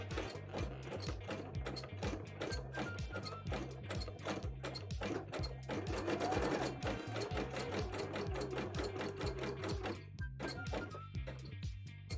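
Sewing machine stitching a zigzag, a fast steady mechanical whir with regular ticking stitches, quiet and continuous with a brief surge in the middle.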